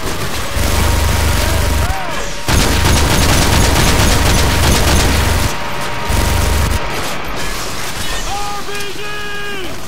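Gunfire in Call of Duty Modern Warfare 2 comes in loud, sustained volleys punctuated by heavy booms, with brief pauses between bursts and a faint voice near the end.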